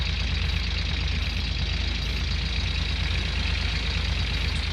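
Tractor engine running in Gold Rush The Game, a constant loud low diesel drone with steady idle rumble, unchanging throughout and no talk over it.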